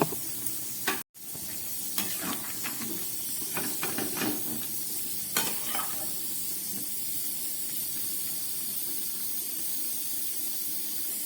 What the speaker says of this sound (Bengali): এবার গ্যাসটাকে বাড়িয়ে দিয়ে আমি খুব ভালো করে কষিয়ে নেব